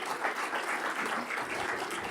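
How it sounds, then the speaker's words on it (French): An audience applauds a colleague, a steady wash of clapping at moderate volume that holds evenly throughout with no speech over it. "Donc, on l'applaudit, professeur Agrumina."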